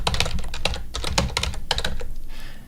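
Rapid, close keystrokes on a computer keyboard come in quick uneven bursts with brief pauses, loud and alone with no talking.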